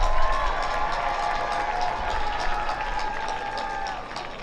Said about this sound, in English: Students, please join me in honoring your guests here tonight with a round of applause